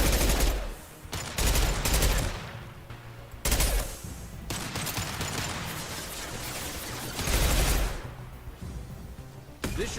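A heavy-recoil gun in Mass Effect 2 fires in long, loud bursts with brief gaps between them, mixed with crackling battle noise and rumbling impacts throughout.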